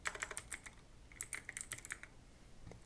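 Quick, light keystrokes tap on a computer keyboard in a short, irregular burst, soft and close with brief pauses between clusters.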